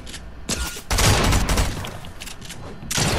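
Video game gunfire, with bursts of rapid shots and booms coming in waves, loud and close, with a brief lull before another volley starts near the end.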